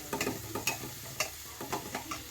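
Tomato and onion fry in a pan for a Mangalore-style fish pulimunchi, a close, quiet sizzle broken by quick scraping stirs and clicks.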